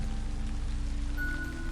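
Steady drizzling rain in the video game Forest of the Drizzling Rain, a dense even patter with a constant low hum beneath it.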